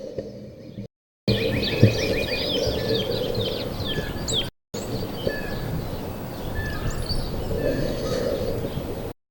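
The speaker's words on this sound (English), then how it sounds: "Go ahead and point these at birds." Birds sing outdoors, picked up through a Synco D1 shotgun microphone: thin, high chirps and trills repeat over a steady hiss of background noise, with two brief dropouts in the recording.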